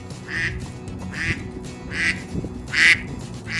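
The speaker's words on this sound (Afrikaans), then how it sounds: "Dit is 'n eend." A duck quacks four times at a steady pace, loud and close, each call a short nasal burst, with a low background hum underneath.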